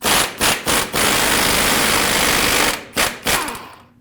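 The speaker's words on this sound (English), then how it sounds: "With a 21mm socket, remove the mounting nut that holds the outer tie rod stud on the knuckle." A loud pneumatic impact wrench with a 21mm socket removes the outer tie rod mounting nut on a 2009-2010 Dodge Ram 1500, rattling in short bursts, then a long sustained run, then more quick bursts, close up and harsh.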